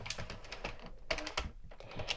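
An Addi knitting machine carriage cranks across a row, giving a steady stream of close, busy plastic clicks and clatters, with short pauses between runs.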